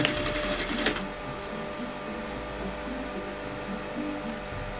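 A sewing machine stitching a fabric valance at a slight angle, running as a steady, fairly quiet mechanical whir for the whole stretch, with a slightly louder rattle at the start.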